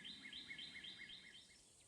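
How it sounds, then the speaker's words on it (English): Chirpy birds call at night in the video game A Township Tale: a quick, repeated series of high, thin chirps, faint and slightly distant, with a soft hiss of ambience beneath. "for some reason I can still hear chirpy birds like it's daytime"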